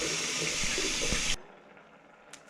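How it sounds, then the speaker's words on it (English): Cold tap water gushes loudly and steadily over boiled eggs in a pan for a moment, then cuts off abruptly, leaving a quiet room with a faint knock near the end. "Cool the eggs by running cold water over them."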